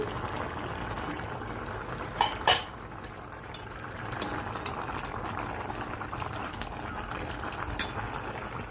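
Eggplant for bajji cooks with a little water in a covered pot, giving a low, steady bubbling simmer; when the lid is lifted, two short metallic clinks ring out near the start, followed by a faint clatter later on.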